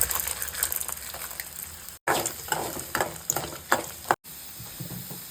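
Onion roasts in hot oil with urad dal, peanuts and chana dal, giving a moderate sizzle and irregular scraping stirs, broken by two brief silent gaps.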